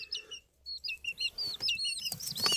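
Small chicks peep and chirp in quick high bursts, close by and fairly soft, with a faint low rustle underneath.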